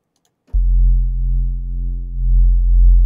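Isolated sub bass from a drum and bass synth in Reason: a deep, pure, sustained low tone that starts abruptly after a short silence and holds steady and loud with a slight swell toward the end.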